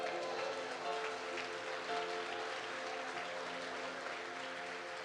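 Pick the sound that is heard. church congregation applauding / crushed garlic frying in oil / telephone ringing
church congregation applauding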